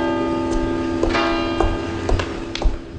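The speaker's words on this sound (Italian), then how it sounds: "Sono già suonati i rintocchi del mezzodì" A church bell tolls noon in the Tuscan town of Volterra, its sustained ringing tone layered with several sharp metallic strikes about every half second, moderately loud and with no voices.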